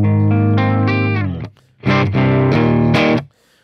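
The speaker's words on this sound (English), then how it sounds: "This is how it sounds on the bridge pickup." Clean electric guitar on the bridge pickup through a Fractal Zilla full cab, slightly driven, with chorus and reverb; sustained chords ring out, break off briefly, then return and fade.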